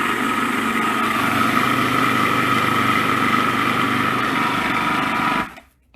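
A blender runs steadily on peas, kale and chia seeds with a loud, even motor whine, then cuts off abruptly near the end.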